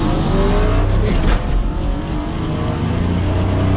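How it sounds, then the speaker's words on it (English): Car engine roaring steadily at drag race launch, loud and continuous from inside the car, with a brief dip as it pulls away. "I'm gonna try and get it up to 2000 and launch from there"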